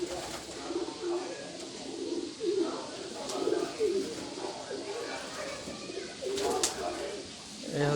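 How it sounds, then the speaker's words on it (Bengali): Large pigeons coo repeatedly in soft, rolling phrases throughout, fairly close, over a low background hum with occasional rustles. "এটা অনেক বড় কবুতর।"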